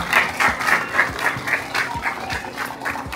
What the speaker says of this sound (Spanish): Un fuerte aplauso para Ángela Maltés,